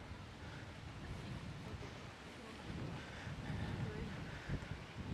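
Wind rushes against the microphone and sea waves wash in on a Mallorca beach at Cala Millor, a continuous low roar with gentle surges.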